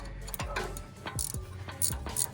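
A wrench loosens a sway bar end link on an FJ Cruiser, giving a few sharp metallic clicks and ratcheting ticks spaced about half a second apart, close and fairly quiet.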